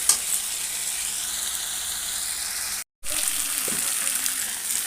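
Vegetables and spices frying in a pan over the heat, a steady close sizzle running throughout with a brief cut of silence midway and some light stirring.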